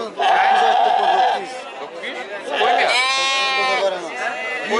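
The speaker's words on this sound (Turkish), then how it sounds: "Koyun ya." Sheep bleating at a busy livestock market, loud and close, with several wavering cries mixed into steady chatter and people talking nearby.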